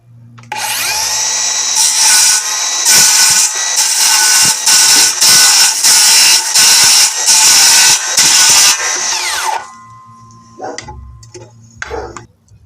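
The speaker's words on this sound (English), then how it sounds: "I'm also going to do it with the Bauer brushless circular saw." Bauer brushless circular saw fitted with a nail slicer blade, loud and close, whines steadily for about nine seconds while cutting through nails, with rapid rhythmic chatter and dips, then spins down to a few faint knocks.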